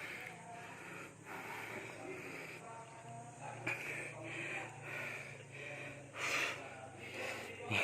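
Heavy, rhythmic panting and snorting breaths from a hiker climbing a steep mountain trail in Maasin City, Southern Leyte, close to the mic with insects chirping in the background.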